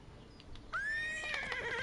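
A horse in the video game Oblivion Remastered lets out a single loud, close whinny that rises sharply and then trails off with a wavering tone, after a brief quiet lead-in.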